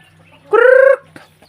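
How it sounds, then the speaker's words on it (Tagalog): A backyard chicken gives one short, loud, close squawking call, with a faint second cluck just after it. It sounds while the flock is being called in to feed. "Tawagon akong mga manok na mga piso guys"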